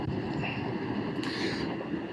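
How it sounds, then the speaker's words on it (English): Strong wind roars across the open upper deck of the Carnival Sunshine cruise ship, a steady, loud buffeting rush against the microphone with no break. "It is very windy."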